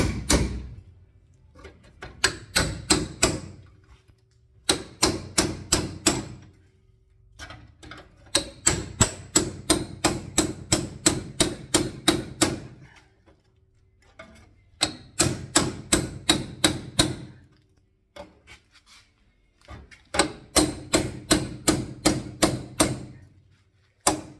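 Spot welds being cut out of a Datsun Z frame rail, a rapid series of sharp mechanical rattling bursts in repeated clusters, close and loud, with brief pauses between runs.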